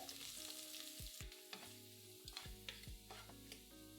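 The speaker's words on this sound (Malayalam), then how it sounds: "3 വറ്റൽമുളക്, 5 വെളുത്തുള്ളിയല്ലി നീളത്തിലരിഞ്ഞത് ഇത്രയും ഇട്ട് അല്പം മൂപ്പിക്കുക" Dried red chillies and sliced garlic fry in coconut oil for a Kerala spinach thoran, making a faint, steady sizzle with scattered light stirring clicks and taps.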